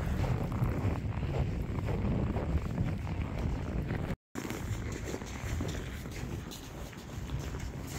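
Strong winter wind in Canada, with snow falling, buffets the microphone in a steady, loud roar with broadband rumble, briefly cutting out once midway before resuming.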